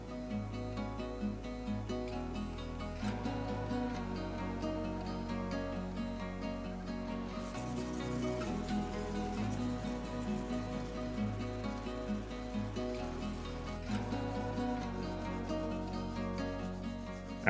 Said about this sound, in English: I go through a few sheets of 600 grit Rhino Wet on the disc grinder